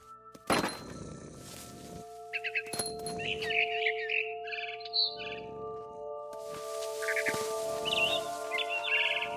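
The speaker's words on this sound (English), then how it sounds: "Then I heard chirping outside my window. It was a barn swallow going back to her nest." A barn swallow in the video game What Remains of Edith Finch gives bright chirps and twittering trills in short bursts after a couple of hollow thunks, heard close against a steady tonal background hum.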